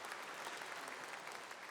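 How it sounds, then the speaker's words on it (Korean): Church congregation applauding a worship team at a Korean diaspora world mission conference evening service, steady dense clapping filling the whole moment, no voices over it. "박수로 격려해 주시기 바랍니다."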